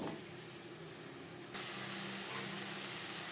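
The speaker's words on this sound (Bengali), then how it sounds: "মশলার সব উপকরণ দিয়ে পেঁয়াজ টমেটো বেশ ভালো করে কষিয়ে নেব" Onion and tomato with red chilli powder and masala cook in a pan, giving a soft hiss that jumps to a louder, steady sizzle partway through, with no talking.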